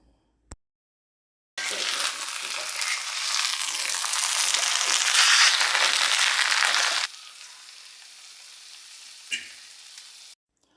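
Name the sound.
stirring tapioca in coconut oil with mustard and curry leaves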